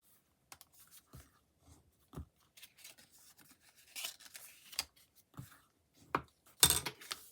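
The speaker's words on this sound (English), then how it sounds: "using your bone folder, just come in and burnish all your score lines." Bone folder burnishing score lines on folded paper cardstock for a star-shaped card: scattered soft scraping rubs and light taps, irregular and close, with no talking.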